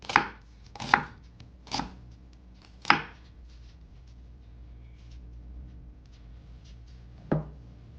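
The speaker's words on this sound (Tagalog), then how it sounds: "Hiwang panggisa naman." An onion being sliced on a cutting board for sautéing, with a few sharp knife chops spaced irregularly, close and fairly loud against a quiet room.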